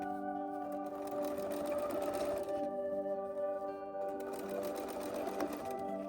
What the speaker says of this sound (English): we're going to understitch onto the pocket really close here to the seam that we just made